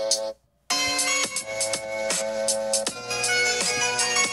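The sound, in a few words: music played through an iPhone speaker for comparison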